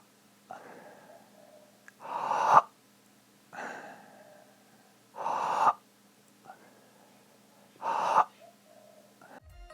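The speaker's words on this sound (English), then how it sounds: "Watch as I take in a few breaths and see if you can hear the sucking together of my vocal cords" A singer draws in several deliberately noisy breaths, the vocal cords pulling together to make a rasping, gasping catch. Four loud close inhales come at a steady pace, each led by a softer rush of air, with no talking.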